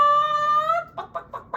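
A human voice imitates a hen: one long, drawn-out squawking call followed by four short, sharp clucks in a quick uneven rhythm, loud and close with no other sound.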